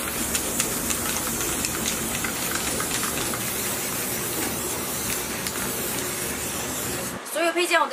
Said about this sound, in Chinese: 接下来我就开始给这些配件喷漆。